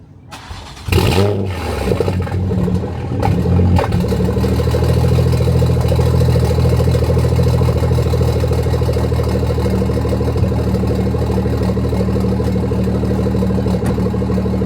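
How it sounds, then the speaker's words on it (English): A BMW's engine cold-starts with a sharp crank burst near the one-second mark, then settles into a steady, loud, close idle drone that holds for the rest of the clip, with no talk over it. "Let's get y'all a cold start."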